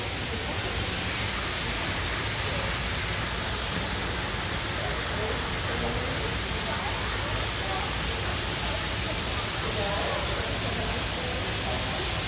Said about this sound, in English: the water way up there is splashing